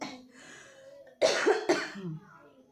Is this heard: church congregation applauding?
no